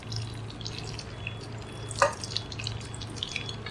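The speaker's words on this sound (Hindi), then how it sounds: "हल्का सा ज़ीरा फ्राई कर लेना है।" Cumin seeds sizzle in two spoons of hot oil, a steady fine crackle with a low hum beneath and one sharper pop midway.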